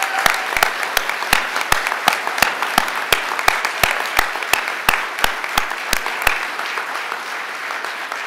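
Audience applause for orchestra musicians at a symphony orchestra announcement event: sustained, fairly close clapping from a crowd, with sharp individual claps standing out, slowly tapering toward the end.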